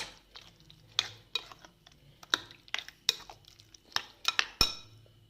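A spoon stirs eggplant meze sauce in a bowl, giving a series of sharp clinks and scrapes against the bowl in an uneven rhythm, close and fairly quiet, with no talk.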